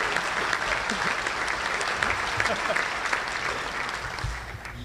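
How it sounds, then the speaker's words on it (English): Sustained applause from an audience at a chamber of commerce meeting honouring its director of the year, dense steady clapping throughout that thins slightly toward the end, with a little murmur mixed in. "Mark, we're going to keep clapping until you stand."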